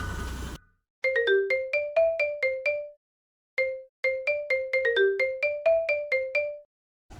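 A mobile phone plays a bright melodic ringtone for an incoming call in an action short film, the same clear phrase of quick notes repeating twice with a short gap between.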